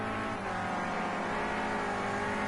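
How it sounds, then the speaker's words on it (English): A Renault Clio Cup race car's engine howls steadily on track, a sustained buzzing drone held at high revs with no letup. "Whips the Clio Cup car around there."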